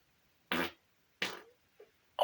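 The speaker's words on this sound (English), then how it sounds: "that was a lovely fart, lads" Several short, close fart bursts in quick succession, each a brief buzzy blast separated by silence, with a faint trailing squeak between them.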